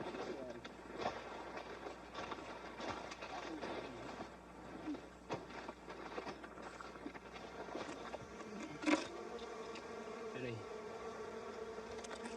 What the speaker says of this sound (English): Splitting the log exposes the hive.